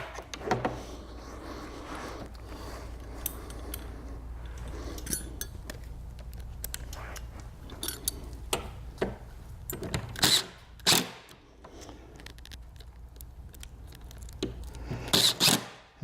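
Screws are driven into a desk hinge with a tool, several short bursts of whirring and clicking spaced across a quiet indoor room, with sharper clatters near the end.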